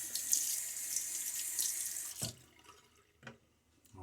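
Tap water runs steadily into a bathroom sink while a face is rinsed during a wet shave with a Gillette Fat Boy razor, then stops, leaving a few soft drips and splashes.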